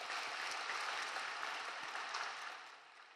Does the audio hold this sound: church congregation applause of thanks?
yes